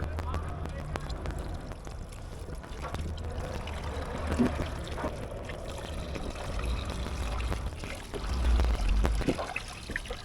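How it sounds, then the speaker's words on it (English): Bilge water cleared out of a boat runs and splashes steadily from a container, a continuous close pouring and trickling with some low sloshing bursts. "There's a lot of water from just cleaning stuff up and it's spilling out."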